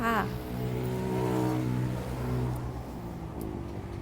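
A used 2014 Yanmar EF393T tractor's diesel engine runs at a steady, close idle with a low, even drone, while someone talks over it.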